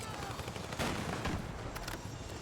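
Rapid bursts of Battlefield 6 gunfire crackle over a steady noisy background, with a louder volley near the middle.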